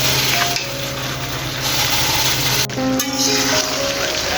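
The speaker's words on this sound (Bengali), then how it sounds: "এখন এই আলু আর মাংস আরও 20 মিনিট কষিয়ে নেব।" Potatoes and beef being stir-fried in a pan for a home-cooked Bengali meal, giving a steady close sizzle with stirring scrapes that runs continuously throughout.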